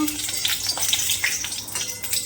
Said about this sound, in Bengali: কড়া বসিয়ে দিয়েছি, তেলও দিয়ে দিচ্ছি। এখানে সবজি ভেজে নেব।